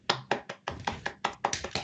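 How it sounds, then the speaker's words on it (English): Applause from a small group, heard as a series of sharp clap bursts in quick uneven succession, close and fairly loud, with no talking. "So round of applause for Matt."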